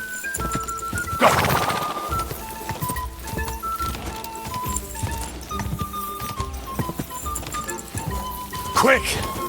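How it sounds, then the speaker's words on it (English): Horses galloping in a race in the video game Kingdom Come: Deliverance II, rapid hoofbeats running steadily under loud excited talk, with a sharp burst near the start and another near the end. "His horse is way faster."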